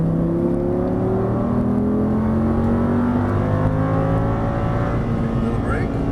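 An Audi R8 accelerates hard out of a corner on a Las Vegas track, its engine note climbing steadily and loudly in overlapping rising tones, heard close from inside the car.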